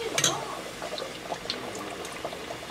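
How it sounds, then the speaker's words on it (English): Hot oil sizzles and crackles softly in a pot on low heat, frying empanadas three at a time, with small pops scattered over a steady frying hiss. "you don't want the oil to splash on you"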